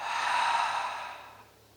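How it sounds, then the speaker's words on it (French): A single long breath blown out through the mouth during a yoga session, a soft breathy whoosh that is loudest early and fades gradually over about a second. "Prenez ici une grande inspiration par le nez et soufflez par la bouche."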